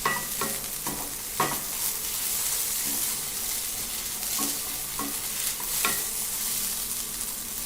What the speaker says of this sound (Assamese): বস্তুখিনি নমাবলৈ হৈ গৈছে আৰু এতিয়া বিনছ ভাজি।